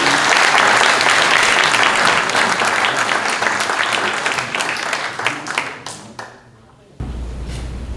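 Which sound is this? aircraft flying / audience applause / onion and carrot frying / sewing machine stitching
audience applause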